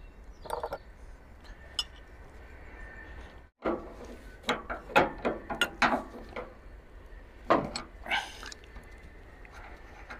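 A ratchet tightens the drive belt pulley tension on a Frontier OS27, giving close, sharp mechanical clicks in a rapid irregular cluster after a quiet stretch, then a second short burst, with no talk.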